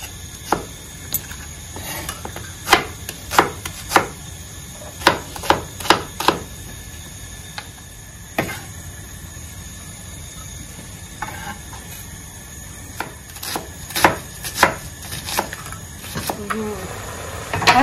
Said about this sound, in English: So just go ahead and chop our onions